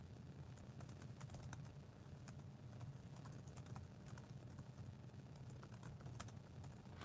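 Computer keyboard typing at a home desk setup, a steady run of light clicky keystrokes over a constant low hum, with no voices.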